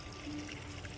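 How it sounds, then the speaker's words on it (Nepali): Water runs steadily from a newly designed tap at a temple complex, a soft continuous flow and trickle heard alone and fairly faint. "यसलाई यसरी खोलेपछि चाहिँ बल्ल पानी आउने रहेछ क्या।"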